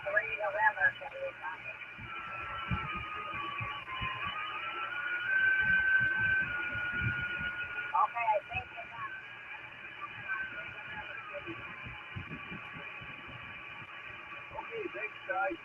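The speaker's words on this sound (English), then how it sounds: "Yep, there's a station over here." A shortwave radio tuned across the band at night gives faint, band-limited hiss and warbling whistles, with a weak distant station fading in and out beneath crackling interference and no clear speech.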